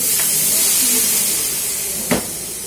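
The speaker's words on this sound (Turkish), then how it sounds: "Güzel bir buharımızı verelim." Steam hisses in a steady, loud, broadband rush while tantuni is finished on the griddle, with a brief sharp burst near the end and no talking over it.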